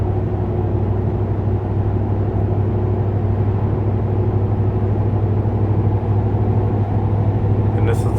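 A 2007 Ford F150 engine running with an exhaust manifold leak, a constant low droning rumble with a steady mid-range hum, close and loud without change for the whole stretch.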